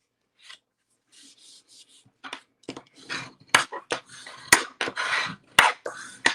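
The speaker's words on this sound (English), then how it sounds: "I'll go ahead and burnish that." A paper card base being burnished on a tabletop, heard as quiet scattered rubbing and scraping strokes, some sharper clicks and taps among them, close and faint.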